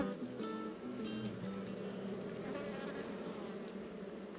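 Bees at a hive in the Margeride, Lozère, hum in a continuous, moderately faint buzz, close by, with no talk over it.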